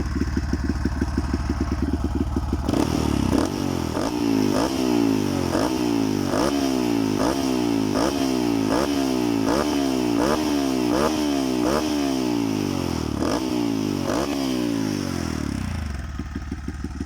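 A Honda MSX 125 motorcycle fitted with an off-road style exhaust idles with a throbbing beat, then revs repeatedly in rhythmic bursts, each rising and dropping back, before it settles into idle again. The exhaust is loud and close.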